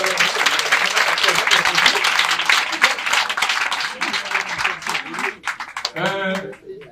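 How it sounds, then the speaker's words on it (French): Applause from guests at a customary wedding in Gabon, a dense, lively burst of clapping that slowly thins out, with voices mixed in and talking near the end. "Il faut applaudir."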